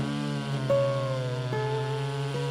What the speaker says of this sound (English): Husky Bob goes to town and finishes off his butt cuts